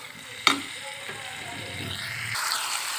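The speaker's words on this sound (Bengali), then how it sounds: "এবার আমি খাসির মাংসটা দিয়ে দিয়েছি। এটাকে ভালো করে নেড়েচেড়ে কিছুক্ষণ মাঝারে আঁচে কষিয়ে নেব।" Goat meat sizzling and frying with spices in a hot pan, a steady crackle with a sharp clank near the start and louder hissing toward the end.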